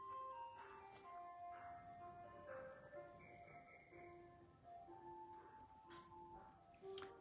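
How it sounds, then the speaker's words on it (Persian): Ice cream truck passing by outside a window, its tinkling electronic jingle plays a repeating melody over faint traffic hum, fairly distant and steady throughout. "ماشین بستنی فروشی داره از اینجا رد میشه."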